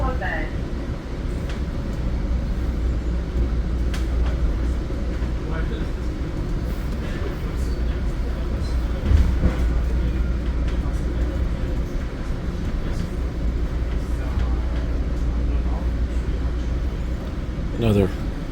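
An Exo commuter train rides between Vendôme and Sainte-Anne-de-Bellevue, a continuous low rumble and rattle of the rolling carriage with occasional knocks and a brief squeal near the end. Voices are faintly heard.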